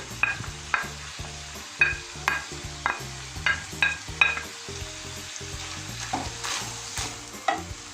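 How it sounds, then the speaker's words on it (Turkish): Green and red peppers fry with chicken liver and onions in a pan, with a steady sizzle under a regular beat of close utensil clinks and scrapes as it is stirred. "Onlarla birlikte şöyle güzelce bir karıştıralım"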